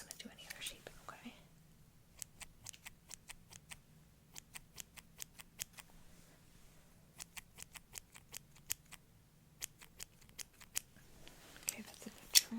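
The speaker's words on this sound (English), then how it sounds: "I'm just gonna trim the tops off." Small scissors snip the tops of eyebrow hairs in a steady run of crisp, close clicks, faint and intimate, with soft whispering at the start and end.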